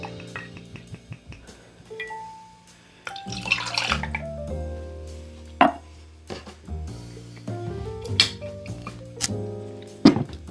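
Rum is poured into a measure for a clarified Madeleine cocktail, a short liquid splash and trickle with light glassware clinks, close by and otherwise quiet.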